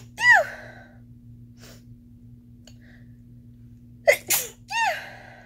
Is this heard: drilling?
no